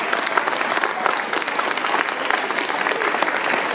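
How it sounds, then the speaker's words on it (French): Campaign activists applaud on election night at a Paris mayor's re-election gathering, with dense, sustained clapping from a crowd lasting throughout, loud and close. "Vous pouvez vous applaudir."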